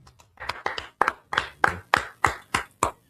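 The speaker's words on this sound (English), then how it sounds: "Let's clap it up." Roughly a dozen sharp hand claps close by, starting a little uneven and settling into a steady rhythm, with no talking.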